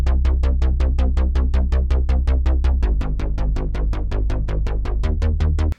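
A Serum synth bass line layered with a one-shot bass sample in a post-punk style beat, pulsing in steady, even repeated notes with a thick low end for about six seconds, loud and alone before stopping abruptly.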